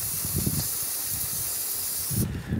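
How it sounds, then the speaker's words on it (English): Brake cleaner sprayed from an aerosol can to wash residual brake fluid off a bleeder screw area, a steady close hiss lasting a couple of seconds that cuts off abruptly, with faint handling thumps underneath. "What we are going to do is come back with some brake clean"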